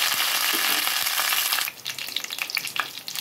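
Tempering spices sizzle in hot oil in a kadai, a loud, close crackling hiss that drops suddenly into sparser popping and spattering, with no voices.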